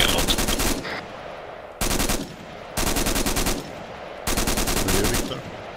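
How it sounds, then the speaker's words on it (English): Heavy automatic gunfire in a military video game, several sustained loud machine-gun bursts of about a second each, separated by short gaps, close and harsh with no talk over them. "there are a lot of gunshots here. Like heavy fire."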